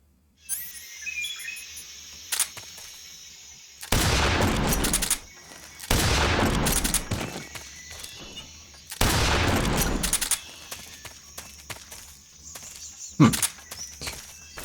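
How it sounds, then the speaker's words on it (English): Shotgun fire in the video game Metal Gear Solid 3: three loud, booming blasts a few seconds apart, each trailing off in a long rumble, then a sharp single crack near the end, over a steady insect-like jungle ambience with no talking. "I think it's about time we give that shotgun a try"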